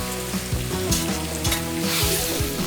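Kerang clams stir-fry in a browned spice paste, sizzling loudly and continuously while a utensil scrapes and stirs in quick repeated strokes, close up.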